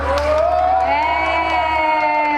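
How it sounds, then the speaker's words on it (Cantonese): An audience at a promotional TV drama stage event cheering loudly with whoops and shouts, a close, sustained burst of crowd noise. "可唔可以俾掌聲我哋聽下？"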